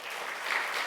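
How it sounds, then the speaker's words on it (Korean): A church congregation at a Korean Sunday worship service breaks into a brief burst of dense, steady applause that fills the room for about a second. "우리 인사할 때 격려 박수 한번 하겠습니다."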